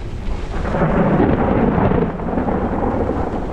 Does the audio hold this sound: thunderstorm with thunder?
yes